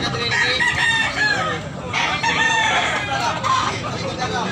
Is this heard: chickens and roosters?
yes